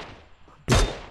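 In PUBG Mobile, one sharp, loud gunshot bursts in near the end, following a stretch of quiet game ambience.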